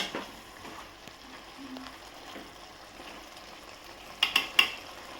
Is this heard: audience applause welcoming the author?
no